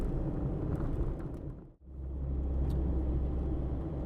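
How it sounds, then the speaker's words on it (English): A Mazda MX-5 ND fitted with a CleaR Motorsport sound tube drives past, its engine rumble swelling in, dipping sharply as it passes close by, then building again into a loud, deep drone. "head back around for a second run with the sound tube plugged in"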